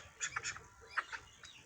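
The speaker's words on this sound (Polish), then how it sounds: "Tu są moje kaczki" A few faint, short bird calls from a small flock of ducks kept for about a week, traded for Legbar hens, sound softly and intermittently with quiet gaps between them.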